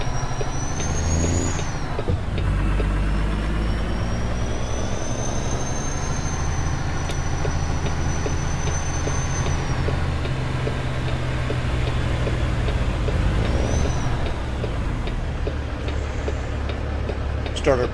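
A truck brakes in the video game American Truck Simulator, with a long steady engine rumble, high squealing tones and hissing air-brake bursts near the start and later on. A voice talks over it at times.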